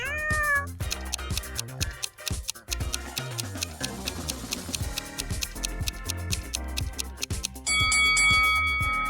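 A house cat gives a short meow at the start, followed by a busy run of cartoonish plinks, chimes and ticking tones, with no talking.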